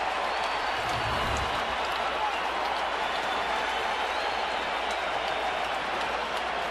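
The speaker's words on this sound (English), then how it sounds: "This crowd electrified." A packed baseball stadium crowd at Chase Field cheers during an NLDS playoff game, a broad, continuous roar of many voices and clapping heard from within the stands, with a commentator talking over it.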